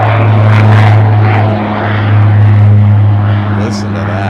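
A Fairchild Metro propeller freight plane departs at Minneapolis–St. Paul airport in winter, its loud steady drone and propeller buzz sustained throughout, with people talking over it.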